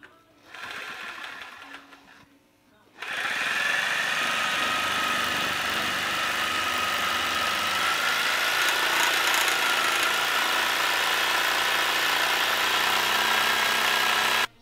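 A power grinder works down a rubber bump stop on a mini truck, running loud and steady for about twelve seconds after a brief quieter start, with a sustained high-pitched whine.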